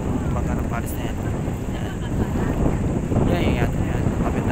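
Strong wind blows across a microphone at sea near a yacht and a small boat, a steady loud roaring rush with gusts that swell toward the end, no speech over it.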